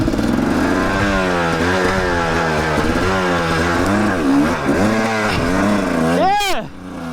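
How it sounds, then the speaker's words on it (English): A motorcycle fitted with a traction disc clutch weight revs hard and loud, its engine note rising and falling in repeated surges, then the clutch drops and the revs sweep sharply before cutting off, with voices talking underneath. "when you rev it up, drop the clutch"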